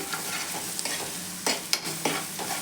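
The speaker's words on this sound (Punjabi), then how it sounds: "ਇਹਨਾਂ ਨੂੰ ਭੁੰਨਣਾ ਹੈ ਆਪਾਂ ਨੇ ਬਸ 1 ਮਿੰਟ ਤਾਂ ਜਿਹੜਾ ਹਲਦੀ ਦਾ ਕੱਚਾ ਪਾਣਾ ਖਤਮ ਹੋ ਜਾਵੇ" Chili, turmeric and coriander powders stir-fried in a pan while making baingan bharta, a steady sizzle with scraping spoon strokes and a few sharper clinks near and alone.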